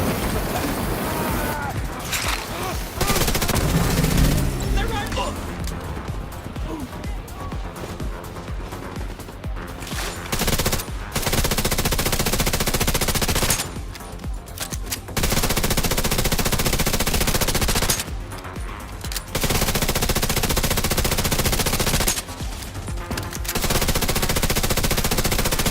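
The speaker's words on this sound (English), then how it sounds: "Setting up turret." A deployed turret in the shooter video game The Division 2 fires long, loud, sustained automatic bursts close by, broken by short pauses, with occasional talk underneath.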